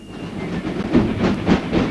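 Train rolling along rails in archival footage of the East German refugee trains to West Germany, a steady rumbling roll with rhythmic louder surges of wheel clatter, moderately loud and alone.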